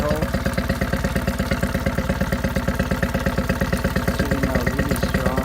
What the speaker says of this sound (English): Motor running really easy. Run real strong.